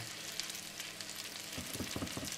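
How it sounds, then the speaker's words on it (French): Parmesan-breaded lamb chops frying gently in a pan, a soft continuous sizzle with crackles, and faint scraping and bumping toward the end, quiet and close. "Les côtelettes finissent de cuire tranquillement"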